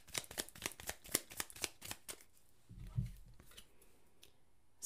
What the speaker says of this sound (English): let's pull a clarifying card for the Judgment card